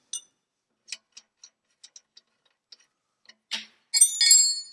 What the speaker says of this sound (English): take yourself an 18 mil and a 15 mil and bust these loose